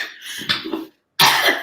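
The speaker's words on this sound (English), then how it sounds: "Obviously, the brain is making me cough." A person coughs during a spoken presentation, two sharp, close coughs separated by a brief silence, loud and alone.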